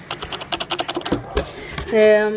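Rapid clacking keystrokes on a mechanical keyboard, a quick uneven burst of presses, close up, then a voice begins speaking.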